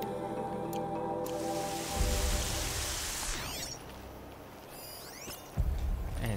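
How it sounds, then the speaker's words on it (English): Rain falls in Horizon Zero Dawn as a soft hissing patter with occasional drips, mixed with in-game effects and a couple of dull thumps. "Raining, it's all epic and stuff."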